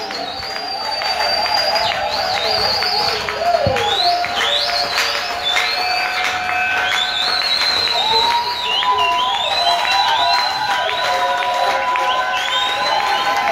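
A church congregation cheers and acclaims loudly and continuously as a preacher arrives, with shouts, whistles and high excited voices over steady crowd noise.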